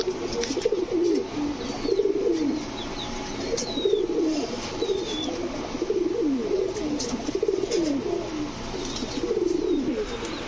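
Rajshahi Giribaz high-flyer pigeons coo in repeated low rolling phrases throughout, close and steady, with occasional wing flaps and faint chirps from other birds in the background.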